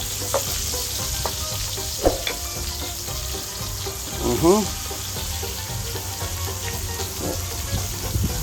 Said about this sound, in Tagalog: ibagsak niyo na si sibuyas